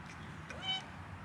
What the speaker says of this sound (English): Oh, look at the kitties.